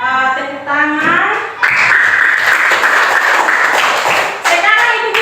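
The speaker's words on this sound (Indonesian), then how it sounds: "Tepuk tangan." Schoolchildren clap in a primary school classroom, a loud, close burst of applause that rises abruptly and holds steady. Children's voices chant over it before and after.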